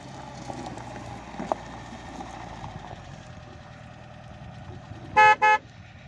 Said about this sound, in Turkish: O Ahmet abi Doğan Sirex'te geliyor maşallah.